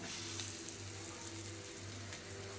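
Bangda fish frying in oil on a tawa, a steady broadband sizzle with a low constant hum underneath, continuous and close, with no talking.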